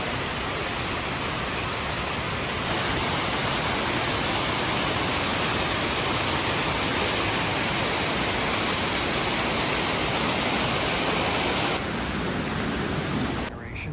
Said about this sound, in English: Came back about 50 years ago and she built this waterfall park.